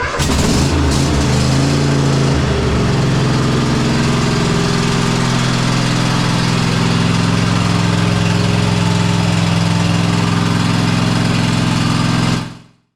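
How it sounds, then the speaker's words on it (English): A Cub Cadet XT1 lawn tractor engine, freshly serviced, starts with a brief uneven rumble and settles into a loud, steady idle that runs close by for about twelve seconds before cutting off. "Just want to fire this thing up to see how it's running after the service."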